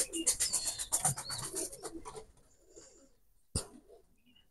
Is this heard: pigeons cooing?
yes